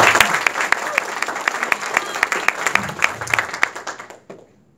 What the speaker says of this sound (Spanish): Unas palmas para ustedes